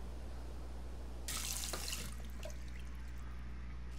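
A kitchen tap runs into a sink for washing dishes in the game The Awesome Adventures of Captain Spirit, a brief splashing gush of water over a low steady hum, then quiet.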